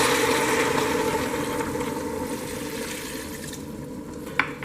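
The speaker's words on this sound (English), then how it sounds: "so we can add already some water" Water poured into a stockpot of softened vegetables for homemade stock, a steady close pouring rush over a low hum, ending with a small clink.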